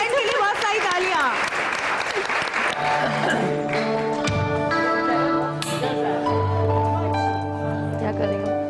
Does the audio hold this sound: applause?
yes